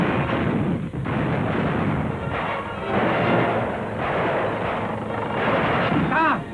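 Archival wartime battle sound of German StuG assault guns firing on Soviet T-34-76 tanks near a wood: heavy booming blasts and rumbling explosions over a dense, noisy background, loud and sustained.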